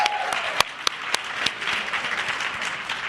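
Audience applause at a community plan launch meeting, a dense patter of many hands clapping with a few sharper close claps standing out, steady and moderately loud throughout.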